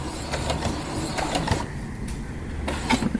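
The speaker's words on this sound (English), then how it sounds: "I'm going to take my pin out, and then I'm going to sew and back stitch." A home sewing machine stitching fabric for a small sunglasses case, running in short bursts with brief pauses as it sews and back stitches, a fast mechanical whirring chatter close by.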